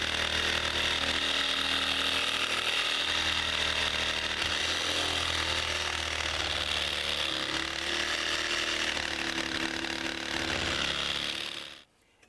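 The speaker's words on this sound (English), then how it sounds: "Next thing I have to do is cut this 2x4 that's hanging down right here." A power saw trims a 2x4 sill plate hanging too low inside a house wall, a loud steady close-up cutting whine that runs unbroken for about twelve seconds before stopping abruptly.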